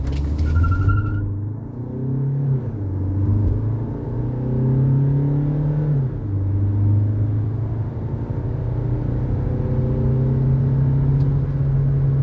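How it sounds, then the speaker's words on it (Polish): A 2017 Citroën C4 Grand Picasso BlueHDI 150 diesel accelerates from 0 to 100 km/h, its engine droning loudly and rising in pitch through several gear changes, with brief dips between gears and no talking. "Ja tutaj zmierzyłem przyspieszenie do setki."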